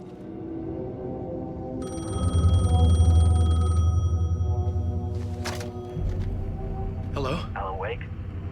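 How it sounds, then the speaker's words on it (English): Payphone ringing in the video game Alan Wake 2, a steady electronic trill heard over a low ambient rumble, with brief other game sounds and a voice near the end. "The payphone was ringing."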